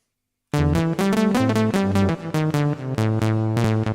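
A Roland GR-55 PCM synth flute patch raised one octave plays a lively run of quick, pitched notes after a brief silence, bright and steady, with no one talking over it.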